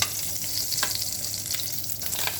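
Shrimp fry in a pan for Chinese lo mein, giving a steady, close hiss and crackle of sizzling oil with a few sharp pops and light stirring clatter.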